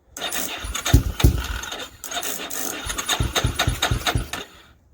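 A Yamaha Warrior 350 ATV engine, started from a jump pack with full exhaust after an engine swap, cranks with several rough turnovers, catches, and runs in a choppy, pulsing idle before cutting out, loud and close.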